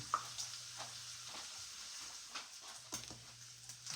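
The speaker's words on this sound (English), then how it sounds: "we're going to put the sausage in the fat from the bacon" Sausage frying in bacon fat gives a faint, steady sizzle with a few soft pops and light stirring scrapes, quiet and close with no talking.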